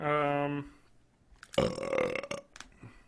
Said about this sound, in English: That's a burp.